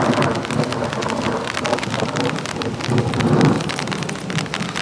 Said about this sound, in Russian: Гремит, и молния такая прям конкретная.